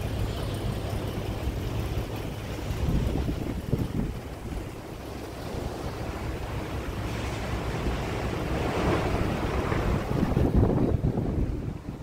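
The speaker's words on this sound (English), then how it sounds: "This is the Pacific Ocean." Pacific Ocean surf on the Oregon coast near Lincoln City, with heavy wind buffeting the microphone over a continuous roar of breaking waves that swells and recedes, loud and close.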